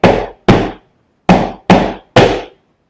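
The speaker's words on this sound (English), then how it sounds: "That double golpe is the beginning of our drill" Flamenco shoe strikes in an Alegrías drill: five loud, close percussive stamps, a pair, a pause, then three evenly spaced strikes, each a sharp wooden thud.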